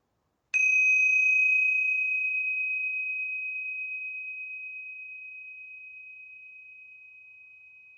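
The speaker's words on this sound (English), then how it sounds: "I'm just going to take a minute to ring the tingsha bells to clear our space" Tingsha bells struck once, a bright, clear metallic ring that starts sharply and sustains, slowly fading over about eight seconds in an otherwise silent space.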